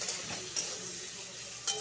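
Potatoes and tomatoes fry in a pan with a soft steady sizzle, broken by a few sharp clinks of a utensil against the pan, close and quiet with no speech.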